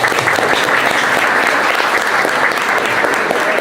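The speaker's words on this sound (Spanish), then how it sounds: "¿Verdad que un aplauso a la profesora?" A crowd at a cultural foundation event claps loudly for a teacher in a dense, continuous round of applause that stays even throughout, close and full.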